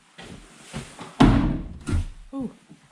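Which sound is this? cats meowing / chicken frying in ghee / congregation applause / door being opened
door being opened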